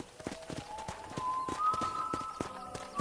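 Horse hooves clip-clop at a steady walking rhythm on the ranch in Red Dead Redemption, with clear repeated hoofbeats under a faint tonal music line.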